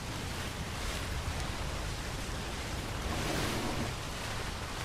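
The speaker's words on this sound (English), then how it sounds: "That's like most of what I hear is just the water." Steady broadband water ambience in a video game, a continuous wash like surf or flowing water with slight swells, filling the whole clip with no voices.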